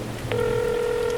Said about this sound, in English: Amanda Chadburn would receive a phone call.